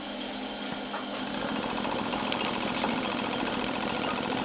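Hybrid hot air generator and air pump engine running steadily and fairly quietly, a continuous mechanical drone with faint rhythmic knocking that grows slightly louder after the first second.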